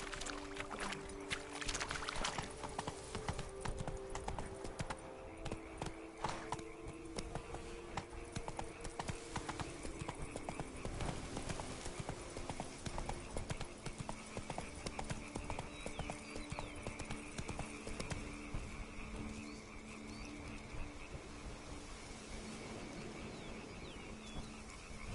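Horse hooves of Roach from the video game The Witcher gallop in a steady, continuous clip-clop rhythm, loud and close, over ambient game music and environmental sound throughout.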